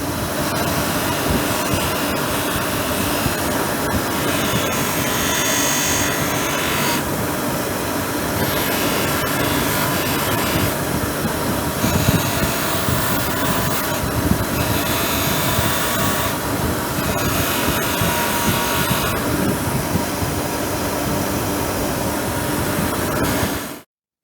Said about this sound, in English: Let's put it on the wire wheel first.